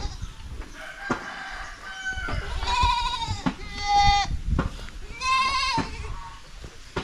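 Goats on a farm bleat repeatedly in several loud, wavering calls close by, with chickens clucking and a rooster crowing mixed in among the animal noise.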